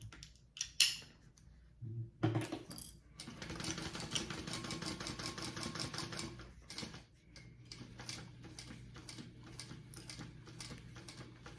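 A sewing machine stitches a sling backpack in rapid mechanical bursts, preceded by a few clicks and handling sounds, then a sustained whirring run of needle strokes up close.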